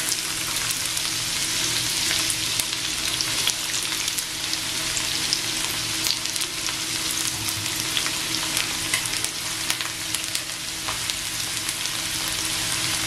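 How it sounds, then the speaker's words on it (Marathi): Onion frying in gently warmed oil for a kaleji masala fry, a steady close sizzle with frequent small crackles and occasional stirring scrapes throughout. "थोडं हलकसच गरम करायचंय आणि त्याच्यात कांदा टाकायचंय"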